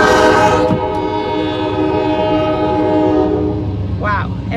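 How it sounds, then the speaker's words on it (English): A loud train horn blares steadily over the rumble of a passing train, fading near the end as a voice briefly speaks. "I hope you can hear me over the train."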